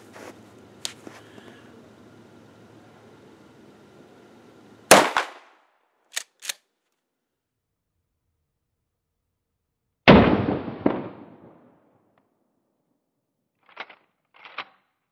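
A Remington 870 pump shotgun with a Magpul stock fires at an outdoor range at 25 yards: two loud, sharp blasts about five seconds apart, each ringing out briefly, with lighter clicks and knocks in between.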